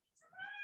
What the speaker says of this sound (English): Okay, now you know I have a cat.